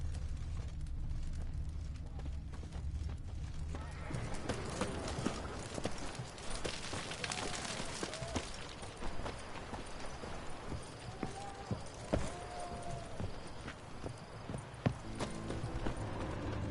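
Horse hooves clip-clopping in The Witcher 3 on PS4, a steady clatter of hoofbeats under game ambience and background noise.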